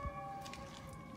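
A distant fire truck siren holds a steady wailing tone, faint under outdoor background noise, with no one talking.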